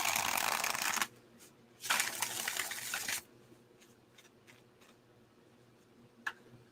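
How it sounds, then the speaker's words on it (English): Tarot card decks are riffle-shuffled close by in two bursts of dense, rapid flapping, followed by quieter scattered taps and card handling. "be able to shuffle all these decks"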